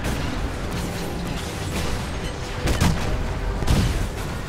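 Iron Man's blasts in the Marvel's Avengers video game as he fires at an enemy's underbelly, a dense rumbling barrage punctuated by two sharper bursts amid ongoing battle noise.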